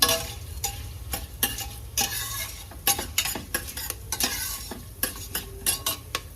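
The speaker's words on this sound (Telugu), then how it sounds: "అన్నీ వేసి ఫ్రై చేసుకున్నాను." Spices and ingredients for a mutton curry frying in a pan, with repeated stirring scrapes and clinks of a spoon against the pot over a steady low sizzle, close and alone.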